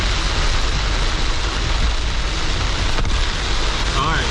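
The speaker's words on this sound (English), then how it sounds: "Very heavy rain, visibility down to probably 100 yards." Very heavy rain pounding down during a storm chase, with visibility down to about 100 yards; a dense, constant roar of rain and wind noise fills the whole stretch at high volume.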